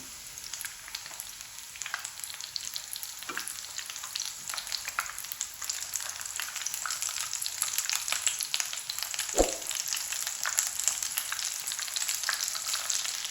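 Capsicum egg fry sizzles steadily in hot oil in a pan, a constant crackling hiss with scattered pops and a couple of brief scrapes.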